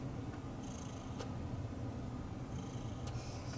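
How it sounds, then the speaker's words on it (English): Close, continuous rumbling purr of a cat, steady and soft, with a couple of faint high squeaks in the background. "Oh, his purr."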